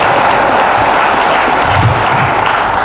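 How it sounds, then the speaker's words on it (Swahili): A large political rally crowd in Meru, Kenya, celebrating a BBI win, breaks into sustained, loud applause, a dense wash of clapping that holds steady from start to finish. "Watu makofi haya."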